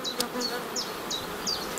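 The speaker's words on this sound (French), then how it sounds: "les abeilles sont calmes" Calm honey bees buzzing around a hive with brood about to hatch, a close, steady hum with brief higher whining passes from individual bees flying near.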